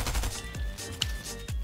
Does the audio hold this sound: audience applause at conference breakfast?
no